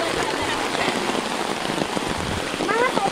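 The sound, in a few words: rain falling at night while fishing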